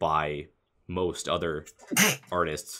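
A single sharp, breathy sneeze bursts out mid-conversation, close and loud, with people talking just before and after it.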